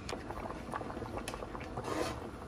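Pancit canton noodles boiling in a pot, a steady close bubbling and gurgling with soft, dense liquid pops throughout and no talk.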